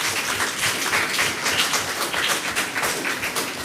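A crowd applauds a school team at an inter-primary schools' quiz in Anguilla, steady dense clapping filling the whole stretch at a fairly even level.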